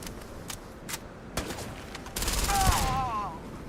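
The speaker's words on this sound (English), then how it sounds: "Those shots should have landed" A quick burst of gunfire from the video game Starfield: a few sharp shots followed by a denser volley of rapid fire, up close with a synthetic whine trailing off at the end.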